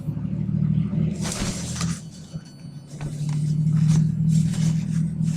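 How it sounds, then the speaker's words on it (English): A car passes nearby with a loud, rumbling engine roar that swells, dips briefly and then surges again, with a few sharp rattling bursts on top. "the car just drove by, making a lot of noise"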